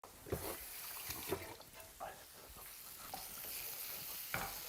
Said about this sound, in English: Wash my hands a minute.